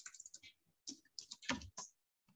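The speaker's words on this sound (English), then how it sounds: "And I'm typing here" Quick bursts of typing on a computer keyboard, irregular key clicks in short runs with brief pauses, close and fairly quiet.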